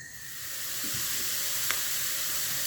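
Finely diced onion frying in oil in a skillet over medium heat, a steady close sizzle and hiss with a faint stir or tap partway through, no speech.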